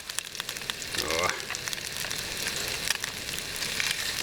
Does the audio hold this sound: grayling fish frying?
yes